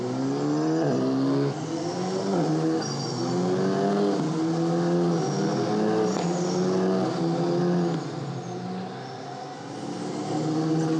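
Alpine Elf Europa Cup race cars on Michelin wet tyres at Monza roar together in a loud, sustained drone, engines rising and falling in pitch as the field runs, a dense continuous mass of motor noise with no talk.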